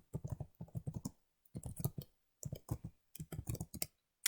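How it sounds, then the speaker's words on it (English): Someone types on a computer keyboard in quick clattering bursts of key clicks, close and quiet, separated by brief pauses. "and I'll type my name"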